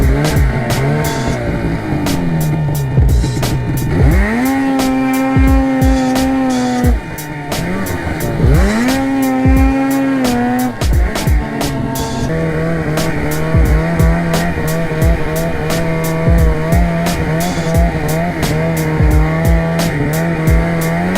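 A Polaris RMK snowmobile engine revs hard during wheelies, loud and close, rising and falling in repeated sweeping pitch climbs with sustained high-revving stretches.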